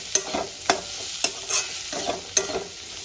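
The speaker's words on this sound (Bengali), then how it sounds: "1 চামচ ধনে পাউডার আর 1 চামচ জিরের গুঁড়ো আর একটু লাল লঙ্কার গুঁড়ো দিয়েছি। মশলাটা ভালো করে কষিয়ে নেব।" Coriander, cumin and red chilli powder masala frying in a pan for a spinach and prawn dish, with a steady sizzle under a handful of sharp spatula scrapes and stirs recurring every half second or so.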